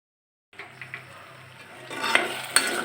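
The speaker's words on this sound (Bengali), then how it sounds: "অল্প পানি দিয়ে চিনিটাকে ক্যারামেল করে নিচ্ছি।" Sugar with a little water caramelising in a cooking pot for sweet curd, giving a soft steady sizzle with a few faint stirring clinks and scrapes that grow a little louder toward the end, no talking.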